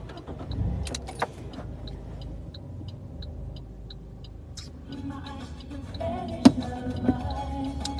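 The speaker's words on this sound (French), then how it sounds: "Il y a une moto, il y a aussi deux voitures qui attendent" Cars and a motorbike sit idling nearby, a low steady engine rumble running throughout, with a few faint clicks and a brief louder knock near the end; no one talks.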